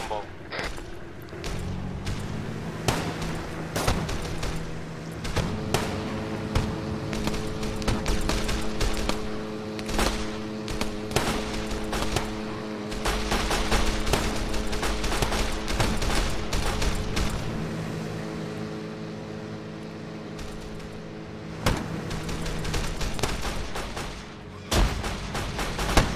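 Sustained gunfire in the video game Arma 3, part of a combat scenario on Californian islands: dense volleys of shots and distant booms roll on steadily for the whole stretch over a droning vehicle-like hum, with occasional sharp nearby cracks.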